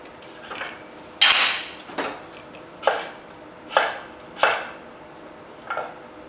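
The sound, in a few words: chopping butternut squash into chunks with a knife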